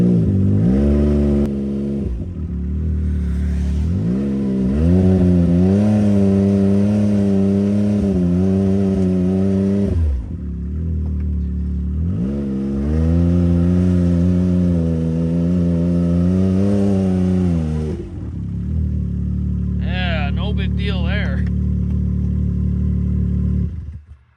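A Can-Am side-by-side engine idles and then revs in two long sustained pulls as it drives onto a trailer, loud and close with a rough mid-pitched drone, settling back to idle at the end with a brief high whine.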